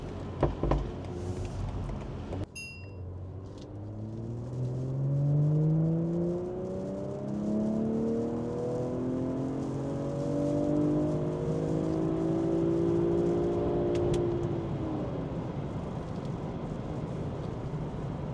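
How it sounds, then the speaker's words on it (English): A BMW G14 840i with a catback exhaust, 200-cell downpipe, Stage 2 remap and exhaust flaps open revs repeatedly, with engine tone rising and falling in sweeping climbs over a steady drone, heard close and alone. "We coded in the exhaust flaps to be open in sport mode, so that's what the car does right now."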